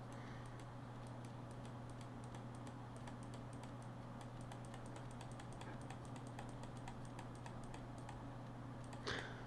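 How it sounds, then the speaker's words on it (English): Rapid clicking and tapping at a computer, a quick irregular stream of light clicks close by over a low steady hum, with a slightly louder click near the end. "if you hear me rapidly clicking"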